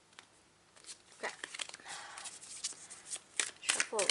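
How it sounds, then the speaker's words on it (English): A tarot deck is shuffled by hand in a series of soft, papery riffles and slides, close and fairly quiet, with no talking over it. "Shuffle a little bit more is what I'm getting."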